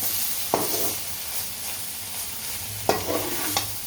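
Chicken chops gravy stirred into kothu parotta on a hot griddle: a steady frying hiss with a few sharp metallic scrapes and clinks of the spatula, close and alone.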